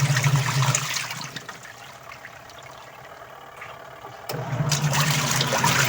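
Water drains out of an automatic washing machine converted to manual use, gushing loudly at the start, easing to a quieter trickle, then surging again near the end.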